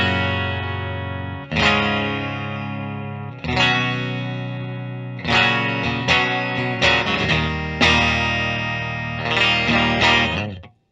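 A PRS Silver Sky SE electric guitar on its bridge pickup, with a bright, biting tone, plays several ringing chords and short phrases, each struck hard and left to sustain, with no talking.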